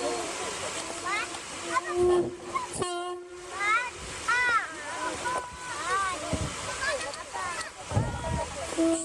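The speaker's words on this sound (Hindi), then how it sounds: "मेरे पास रेलगाड़ी भी है।" A train sound effect plays during a children's stage performance of Tagore's The Post Office: rumbling rail noise with repeated horn or whistle blasts, loud and continuous, while actors talk over it.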